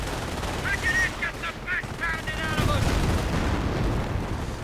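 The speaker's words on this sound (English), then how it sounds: "Anti-tank gun opening up on the Panther sub." In a 2v2 strategy video game battle, an anti-tank gun opens fire on a Panther tank, with rapid machine-gun bursts and heavier shots rattling at mid distance beneath a speaking voice.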